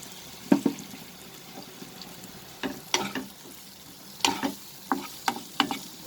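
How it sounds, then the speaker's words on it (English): Capsicum and potatoes sautéed in a pan over a medium flame: a low frying hiss broken by repeated irregular clatters and scrapes of a spoon stirring, close and fairly quiet. "we'll saute this over the medium flame. Add the capsicum also."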